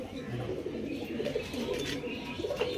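Kalanka pigeon pairs coo in low, rolling murmurs, fairly faint and continuous, with soft overlapping calls throughout.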